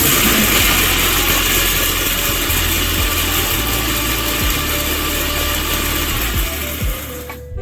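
A kitchen mixer grinder runs steadily at close range while ingredients for homemade hair oil are blended, giving a loud continuous motor whine throughout before it slows near the end.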